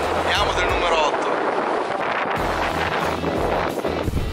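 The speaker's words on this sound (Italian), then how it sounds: "Speriamo vada a calare un po', perché soffia davvero tantissimo." Strong wind gusts at a river mouth during sea bass fishing, buffeting the microphone in a loud, steady roar, with someone speaking over it.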